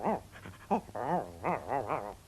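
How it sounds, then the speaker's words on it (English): A dog gives a run of excited, yelping barks and whines, several quick bursts close by with short gaps between them. "he jumps up and down and barks and gets very excited and rushes off to meet him"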